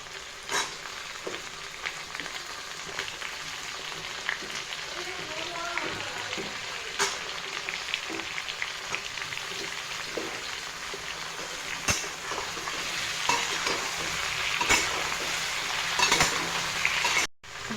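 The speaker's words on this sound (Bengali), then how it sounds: "এখন দিয়ে দেবো কেটে রাখা বেগুন।" Cut eggplant added to a pan of lightly fried potatoes crackles and sizzles steadily in hot oil, with occasional spatula scrapes and clinks against the pan and the frying growing louder toward the end.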